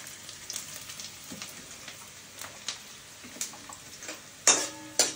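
Onions frying in a pan for a meat curry, a soft steady sizzle broken by occasional ticks and clicks, with a couple of sharper spatula scrapes near the end.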